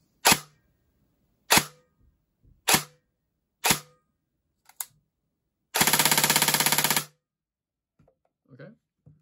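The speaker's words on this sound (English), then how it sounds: "I will do 4 shots of semi, and then a second or two of automatic fire." An airsoft AEG electric gun fires four separate semi-auto shots at roughly one-second intervals, then a burst of about a second of rapid automatic fire, followed by faint handling noises; sharp, close and clear.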